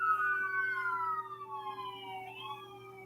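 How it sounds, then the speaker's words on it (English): Wailing sirens pass by at a distance, pitch sweeping down and then rising again, over a steady low hum. "those sirens right now going by"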